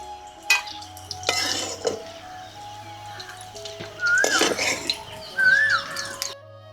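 Cucumber chutney ingredients being fried in a pan, with light sizzling, spoon stirring and scraping against the pan, and a few metallic knocks, close and moderately loud.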